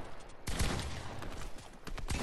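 Gunfire in Fortnite, a loud close burst of rapid shots kicking in after a short lull and continuing steadily, with another sharp shot near the end.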